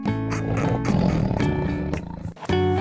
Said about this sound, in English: white tiger, 백호랑이,